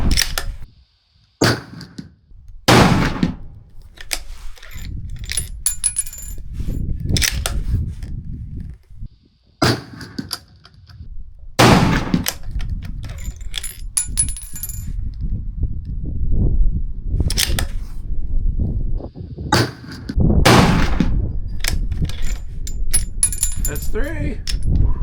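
Repeated gunshots from a firearm holding three rounds with another loaded right after, sharp loud cracks spaced several seconds apart, with someone talking and handling clatter between shots.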